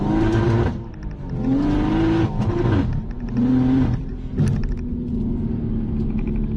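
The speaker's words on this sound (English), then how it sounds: "That external wastegate is nuts." A BMW M240i with an external wastegate and a Dinan suspension kit accelerates hard, its engine note climbing and dropping through several pulls. The exhaust roar is loud and close, with a sharp burst near the end.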